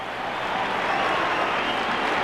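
A capacity football crowd of 28,000 at Borough's new ground for Chelsea's visit in the 1995 Premier League season applauds in one continuous, dense roar of clapping that holds steady and loud throughout.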